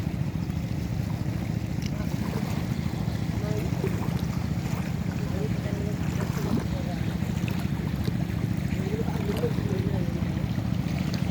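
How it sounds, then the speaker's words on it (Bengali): Wind blows across the Haripur river ferry ghat while the river runs high in flood, a steady low rumbling buffet against the microphone, with faint voices in the background. "এই জায়গাটা তো বাতাস লাগতেছে ভালো লাগতেছে একটু"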